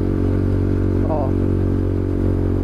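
A motorcycle with an open, loud exhaust climbing a hill, a constant heavy droning engine note heard close and continuous.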